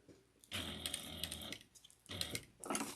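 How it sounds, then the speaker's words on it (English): A sewing machine topstitching fabric with a 1/8 inch seam allowance, running close and steady in two bursts of rapid needle chatter separated by a brief pause, with no talking. "what I'm going to do is top stitch this down onto itself using 1/8 of an inch seam"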